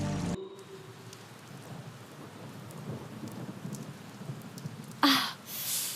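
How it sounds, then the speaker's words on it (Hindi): Steady rain patters throughout a thunderstorm, with a low rumble and a sharper burst of noise near the end, fairly faint overall. "मैंने कहा था ना कि बारिश होगी।"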